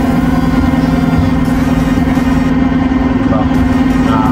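The motor of a motorized pedal boat on a lake in Taiwan hums at a steady low drone throughout, close and loud, with a voice talking over it.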